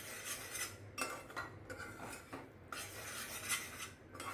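A spoon stirs jaggery syrup with cardamom and crushed peanuts in a pan, scraping and clinking against the metal in a steady, irregular rhythm. It is close and fairly quiet, with no talking.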